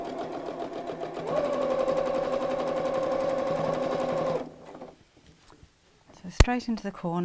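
A close sewing machine hums steadily while stitching a craft mat bag, then stops. Someone speaks briefly over the machine, and a few handling clicks follow.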